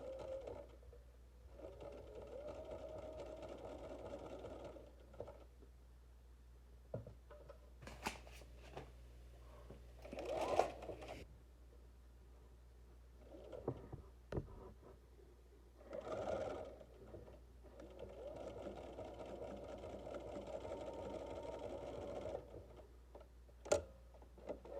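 A sewing machine stitches a quarter-inch seam on a fabric face mask, running in several steady whirring bursts of a few seconds each, broken by pauses with faint ticks and fabric handling, close and quiet.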